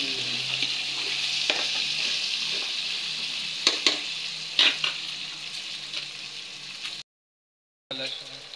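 Bitter gourd with pork fries in a pan, a steady close sizzle broken by the scrape and clack of stirring, ending in a brief silence.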